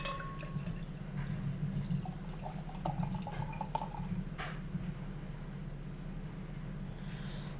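Parish Canebrake beer trickles and drips steadily into a glass, with a faint splashy fill sound over a low constant background hum.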